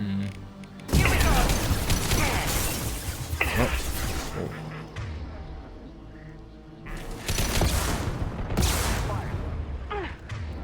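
Missiles fired at an enemy in Mass Effect 2, loud bursts of launches and explosions with mechanical clatter, two heavy impact swells separated by a quieter stretch, with a voice talking underneath.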